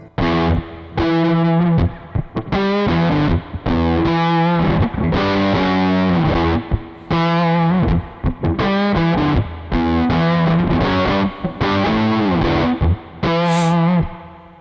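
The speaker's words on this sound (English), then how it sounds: "So, easygoing spring reverb. It's the spring fan setting. So the Fender spring reverb." An electric guitar plays a run of chords and single notes through a Kemper Profiler's Fender spring reverb setting, drenched in springy reverb with a slight distorted edge, loud and close with no talking.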